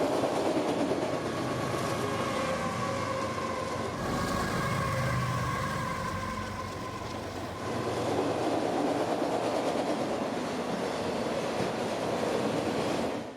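A train on the CSX S-Line rolls past at evening rush hour in Dade City, Florida, with a steady loud rumble and wheel clatter. Horn-like tones rise partway through, and the roar carries on without talk.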